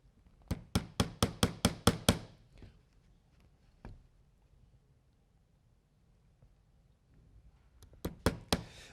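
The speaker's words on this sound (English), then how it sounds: "and I take my trusty little hammer" A small hammer taps a chisel while checkering a wooden gun stock. A quick, even run of about seven sharp, close knocks gives way to a quiet pause with a couple of faint taps, then three more crisp strikes.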